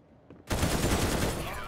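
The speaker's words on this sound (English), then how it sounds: "He's shooting now." Gunfire erupts during a Counter-Strike match, a sudden loud burst of rapid shots starting after a quiet moment and continuing densely, heard close with no speech over it.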